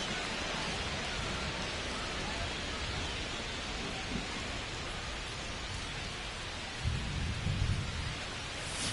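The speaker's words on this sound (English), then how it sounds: "This rain is not letting up." Steady heavy rain pouring during a baseball game in MLB The Show 25, a dense continuous hiss, with a low rumble of thunder rolling in near the end.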